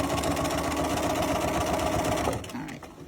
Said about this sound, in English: Stitch away on that first piece.